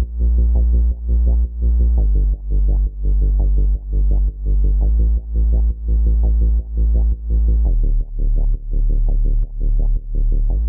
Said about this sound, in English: This bass consists of two layered voices and sounds like this.